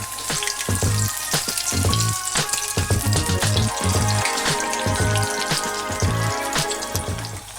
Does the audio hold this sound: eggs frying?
yes